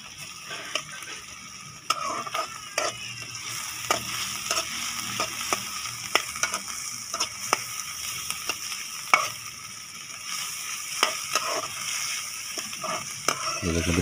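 Garlic paste sizzles in a small amount of ghee for egg macaroni, a steady frying hiss broken by frequent sharp scrapes and clicks of a spoon stirring against the pan.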